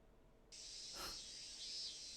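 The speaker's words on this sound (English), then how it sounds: "cicadas all began to cry out at once" Cicadas in the Higurashi video game burst into a loud, sustained high-pitched drone after a moment of near silence, continuing steadily with a brief swell partway through.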